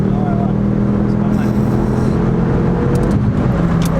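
A Ford Focus RS500 Mk2 engine, 350 hp, revs loudly and continuously close by, with a sharp crackle of exhaust pops near the end.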